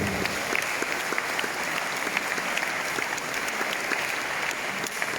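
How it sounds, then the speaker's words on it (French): An audience at an evening event in Saint-Joseph applauds the town, producing a continuous, even wash of many hands clapping that holds steady throughout without voices. "Je vous demande d'applaudir la ville de Saint-Joseph"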